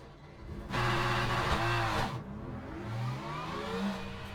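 A race car engine in a racing video game played on a Thrustmaster T248 wheel, a loud steady engine roar that surges and revs with shifting pitch throughout.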